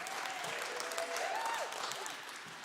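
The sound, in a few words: audience applause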